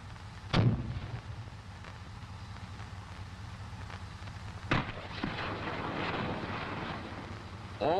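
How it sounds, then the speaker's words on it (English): A full salvo of eight grenade launchers firing from an M551 Sheridan armored reconnaissance assault vehicle: a sharp blast, rumbling wind-buffeted noise, then a second heavy report and a sustained roar, with no voices. "grenade launchers can be fired one at a time, in right or left salvos of 4, or in a full salvo of 8"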